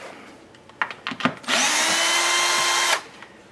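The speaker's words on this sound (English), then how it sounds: "removing these two nuts from the inner fender liner. They're 10mm." A power drill or impact driver spins off a 10mm nut from the inner fender liner of a Mercedes, a steady loud whine lasting about a second and a half after a few clicks and handling knocks, with no talk.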